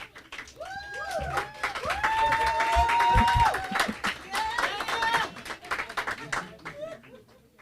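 A crowd claps continuously with rapid, overlapping hand claps, swelling louder in the middle while cheers and whoops rise above the applause.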